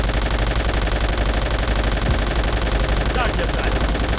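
Rapid machine gun fire from rear turrets in the World War II shooter Call of Duty: World at War, a dense, continuous loud rattle with scattered impacts throughout.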